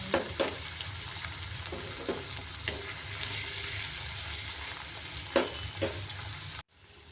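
Spring onion greens with tomato stirred in a hot iron wok, a steady close sizzle broken by periodic scraping knocks of the spatula, no talk, ending in sudden silence.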